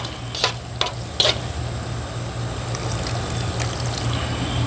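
SOS gravy being stirred in a pan while whole milk deglazes browned bits off the bottom, with a steady low hiss and a few sharp scrapes of the utensil against the pan early on.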